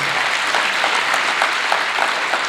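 Dense, steady applause from an audience at a 2022 matric awards ceremony, many hands clapping together in a continuous close wash of sound with faint rhythmic accents.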